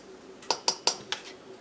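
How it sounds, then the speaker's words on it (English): A metal teaspoon measure clinks against a container while scooping brown sugar, four quick bright taps in a row, close and fairly quiet. "I'm going to use my teaspoon measure for brown sugar"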